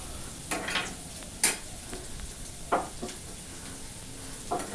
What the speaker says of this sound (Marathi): असा कांदा लाल होईपर्यंत परतून घ्यायचा तेलामध्ये